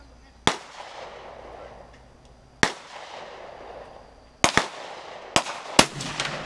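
Gunshots at an outdoor shooting range, five sharp loud reports spaced irregularly with a long rolling echo after each, the last three coming in quicker succession.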